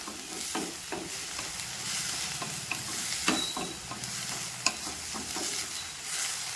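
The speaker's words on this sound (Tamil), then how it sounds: "நல்லா கொஞ்சம் வதக்கி விடுவோம். ரொம்ப வதங்க வேண்டாம், சும்மா 4 வதக்கினா போதும்." Ingredients for a brinjal (eggplant) dish sauté in a pan with a continuous close sizzle and frying hiss, broken by scattered scrapes and clicks of a stirring spoon.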